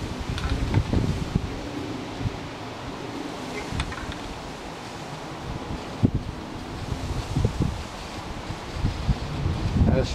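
Steady wind blows outdoors while motorcycle parts from an FZR restoration are spray primed, giving a continuous low rumble and buffeting against the microphone that rises and falls in gusts, with no talking.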